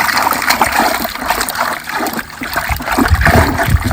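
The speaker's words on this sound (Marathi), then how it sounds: "पाणी जेवढं आपण बियाणे टाकणार त्या पद्धतीने पाणी घ्यायचं आणि पाणी हलवायचं" Water in a container is swirled and sloshed by hand to dissolve salt for treating rice seed, a loud, continuous splashing and trickling close by without pauses or talk.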